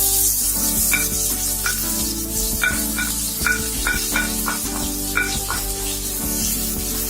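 Chopped onions hit smoking-hot oil in a pan while cooking aloo gobhi, giving a loud, steady close sizzle with stirring and scraping clatter throughout.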